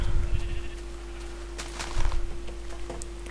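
Sheep in the Minecraft video game bleat in a few short calls over a steady low hum, close and moderately loud with faint stepping sounds between them.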